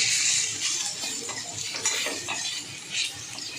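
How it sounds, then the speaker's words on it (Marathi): Walnuts roasting in ghee in a home kitchen pan, with steady scraping and clinking of a utensil stirring them and a soft, continuous frying hiss, close and alone without talk. "आता मी अक्रोड पण भाजून घेते तुपात"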